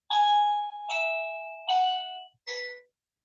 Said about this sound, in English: Someone's ringing my doorbell.